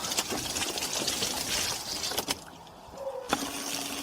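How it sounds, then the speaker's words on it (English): An above ground pool pump runs in backwash mode, giving a steady rushing, gushing water noise close by, with a few sharp knocks and a brief quieter stretch partway through. "Turn on the backwash mode, then turn on the pump, turn on the hose."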